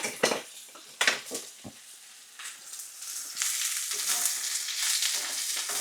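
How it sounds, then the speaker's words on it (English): Peppers frying in a pan for a homemade spice bag, with a few sharp clatters early on, then a steady, loud sizzle that builds and holds through the second half. "we're going to fry these off"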